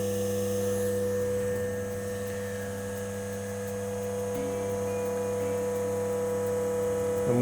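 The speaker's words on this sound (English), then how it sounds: "And you can sort of hear the pump load a bit as well." A vacuum pump runs under load while vacuum bagging cold moulded planking for a quarter scale boat hull, giving a steady, close electric hum with a slight change in pitch partway through.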